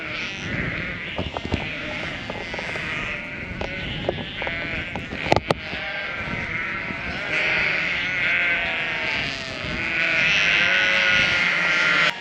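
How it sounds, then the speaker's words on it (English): Sheep that have broken through a hedge into a field bleat repeatedly, several overlapping voices nearby and some farther off, steady and loud, with a faint engine drone and a few knocks underneath. "These sheep know they're not supposed to be in here."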